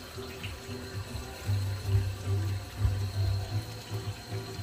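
Water runs steadily from a tap into a kitchen sink beneath which a new garbage disposal has just been installed, a continuous close splashing wash with a low rumble underneath.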